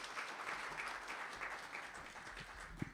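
Audience applause at a trade seminar, a steady dense patter of many hands clapping throughout, moderately close with a faint thump near the end.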